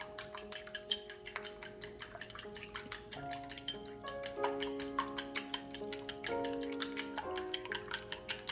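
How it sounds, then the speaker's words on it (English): Raw eggs with a sprinkle of salt stirred by hand for Chinese shrimp and egg fried rice, giving a steady series of quick, light ticking clicks of utensil against bowl, close and fairly quiet with no talking. "I sprinkle some salt into the raw eggs and stir it up"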